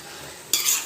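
Tomatoes being stirred into a curry in a pan: a single short scrape of a spoon through the mix after a moment of quiet near-silence.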